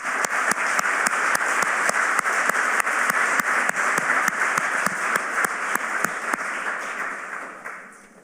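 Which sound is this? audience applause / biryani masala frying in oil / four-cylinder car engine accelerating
audience applause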